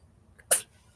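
A single short sneeze bursts out near the mic in a quiet indoor room during a livestream, sharp and brief, then fades back to low background hum.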